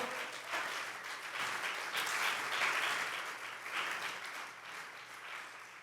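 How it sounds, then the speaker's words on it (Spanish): A church congregation applauds after a Spanish-language sermon, dense sustained clapping from a large audience filling the room at moderate, fairly even loudness. "Dale un aplauso a Dios, por favor."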